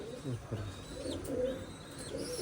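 Female pigeon, blind in one eye, cooing close by in a series of low, soft, throaty coos with small chirps from other birds around it.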